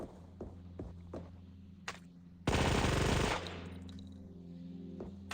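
Heavy SMG firing explosive ammo in the VR game Sweet Surrender: a short, loud sustained burst of rapid fire, set against scattered clicks and footsteps before and after.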